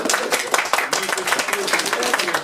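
An audience claps in uneven, fairly sparse applause at close range, with some talking mixed in.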